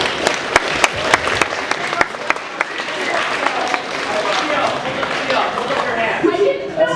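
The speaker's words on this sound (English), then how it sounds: "can we all get a round of applause for our" A school audience gives a round of applause at a student presentation, a few sharp early claps building into mixed clapping with voices talking over it.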